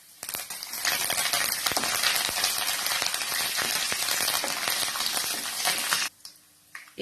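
Cashews, dried red chillies and curry leaves fry in hot oil in a pan, a dense, close crackling sizzle with sharp pops that runs steadily, then cuts off abruptly near the end.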